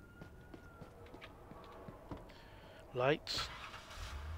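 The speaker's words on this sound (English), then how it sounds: "Sirens." A police car siren wails in Police Simulator: Patrol Officers, a short rising sweep that jumps out loud over game noise and speech, followed by a second burst.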